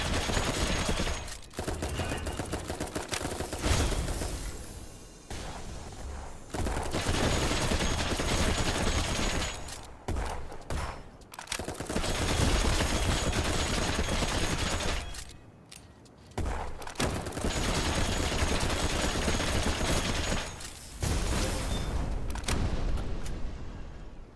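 Mech weapons in Armored Core firing in long dense bursts of rapid gunfire, loud and close, broken by brief pauses between volleys, with no voices.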